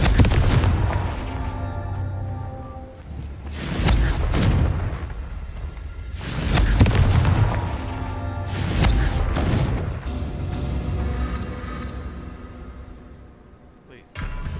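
Blasting-spell explosions in the Hogwarts Legacy video game: two loud booming blasts a few seconds apart, each with a rumbling tail, over constant game ambience.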